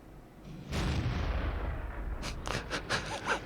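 A tank gun fires in World of Tanks from an Aufklärungspanzer Panther at a Leopard prototype, with one heavy booming shot followed by a rumbling tail and several sharper impact pops.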